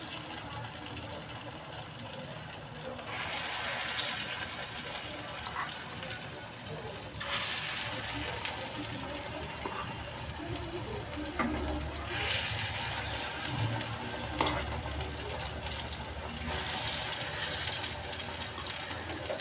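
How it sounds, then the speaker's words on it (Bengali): Masoor dal (red lentil) fritters are slipped one by one into hot oil, making a soft, steady hissing sizzle that swells in bursts as each fritter goes in, fairly faint and without talk. "তেল গরম হয়ে গেছে, এবার মা এক এক করে বড়াগুলো ভেজে নেবে।"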